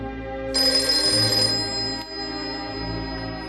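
Mobile phone playing an old 1950s-style telephone bell ringtone rattles out one loud, trilling ring burst, then falls quieter over a steady background hum.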